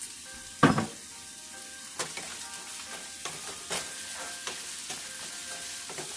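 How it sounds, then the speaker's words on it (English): Slightly frozen ground beef sautéing with onion and garlic in a pan for Italian-style spaghetti sauce, a steady close sizzle broken by a few scrapes and knocks of a utensil against the pan. "So now I am sauteing the ground beef, and I am waiting for it to turn light brown."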